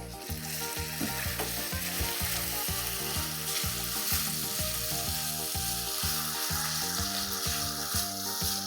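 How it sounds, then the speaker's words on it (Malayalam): Double cream poured into a hot pan for a sauce served with plum cake, giving a steady continuous sizzle under a droning, pulsing background of music, close and even in level. "ഇനി ഗ്യാസൊക്കെ ഓഫ് ചെയ്തിട്ട് നമ്മൾ ഡബിൾ ക്രീം അരിങ്ങനെ ഒഴിച്ചു കൊടുക്കാം"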